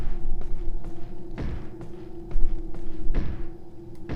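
Repeated dull thuds from a door banging in Resident Evil 4, irregular knocks over a steady low game ambience, moderately loud with no speech.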